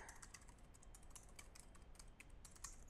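Fingers type on a computer keyboard while a new Python project is set up, a rapid, steady patter of soft key clicks under faint background hiss.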